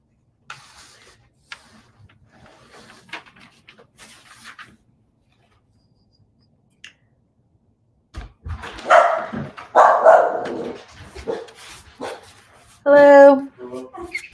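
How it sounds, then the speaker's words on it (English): Several dogs bark in a loud, close cluster of excited barks and yips after a quiet stretch of soft rustling, with a person speaking in between. "I believe the dogs are about to bark"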